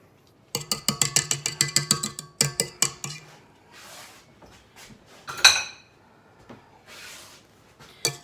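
Metal spoons clink and rattle together in a kitchen while being gathered up, a quick run of bright taps followed by a few scattered clatters and one sharper clank, close and alone with no talk.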